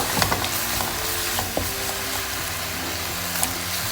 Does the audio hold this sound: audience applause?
no